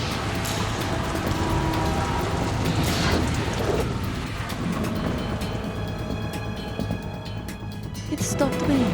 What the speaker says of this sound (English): It stopped raining.